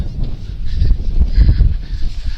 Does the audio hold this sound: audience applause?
no